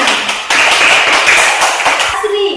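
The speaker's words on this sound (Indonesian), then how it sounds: "Oke, tepuk tangan." Children in a classroom clap hands together in a brief, close burst of dense applause.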